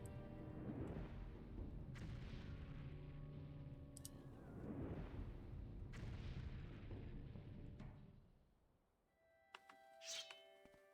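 A fireball spell cast in the game Morrowind: a dull rumbling whoosh swells and fades twice, booming and fairly loud, followed by brighter chiming and crackling impact tones near the end, with no voices.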